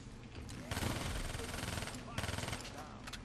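Rapid semi-automatic gunfire in Black Ops III, shots coming in quick clustered bursts at a steady rhythm, loud and close, with a voice talking over parts of it.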